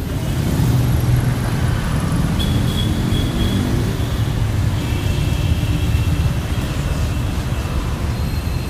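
Steady road traffic rumbles without a break in Pune near Swargate, with engines droning and vehicles passing close by.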